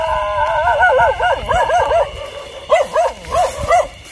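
Several dogs bark, yip and whine at night in the countryside near a bamboo clump, a fairly close, excited series of warbling yelps in two bursts.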